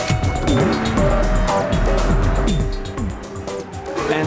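Car driving in The Getaway video game: a loud, continuous engine drone with pitch sweeping up and down through repeated gear changes, plus occasional tire squeals and passing-vehicle whooshes, with no talk.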